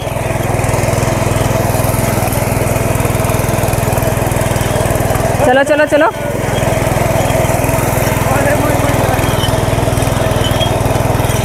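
A tractor engine runs steadily nearby with a loud, continuous mechanical drone while a farm field is ploughed. Brief voices break in once midway.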